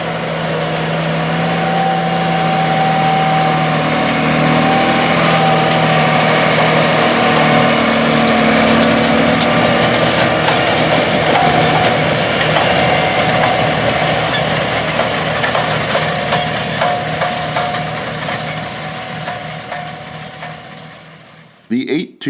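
A John Deere 8295RT track tractor with a 9-liter six-cylinder diesel engine drives across a wet, muddy field while planting corn, a steady loud engine drone that fades toward the end.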